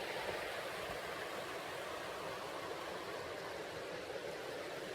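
Waterfall and stream in a forest gorge in Loyalsock State Forest: a faint, steady broadband rush of falling and flowing water, continuous and even with no other sounds.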